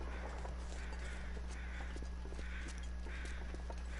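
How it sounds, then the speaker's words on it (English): Crows caw in the survival video game The Long Dark: a few short, spaced calls ring out over a steady, droning wind-like background. "Crows telling me where the feathers are."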